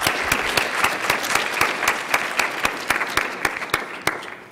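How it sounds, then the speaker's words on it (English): A morning conference audience claps for the session's speakers, a dense burst of many hands with sharp individual claps standing out, steady and fairly close before thinning slightly at the end. "So if we could have a round of applause for the speakers this morning."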